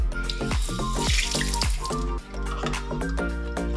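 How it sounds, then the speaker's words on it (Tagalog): Water splashes and trickles into a cooking pot for ginger and turmeric tea, a close, continuous pour with dripping plinks and a brief dip midway, no voices. "Tapos, lagyan ng tubig."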